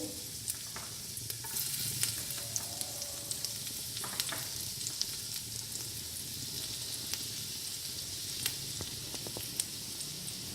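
Chopped ginger frying in desi ghee in a pan, a quiet, steady sizzle with small pops and occasional spoon clicks, low in level and without speech.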